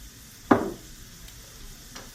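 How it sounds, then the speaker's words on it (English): Soy sauce and a little sesame oil hit a hot pan with cabbage slaw, giving one brief burst of sizzling that quickly dies down into a faint, steady frying hiss, close and without talk. "Okay, I'm going to go ahead and add, just swish around, some soy sauce, a little bit of sesame oil"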